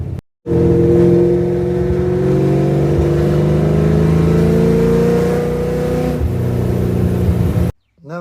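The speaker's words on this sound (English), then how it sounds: "I've got that really high pitch rasp that I don't like from modern Coyote cars" Ford Coyote V8 in a project car revving with a strong, steady engine drone and harmonics that climb gradually, loud and close for about seven seconds, with no one talking.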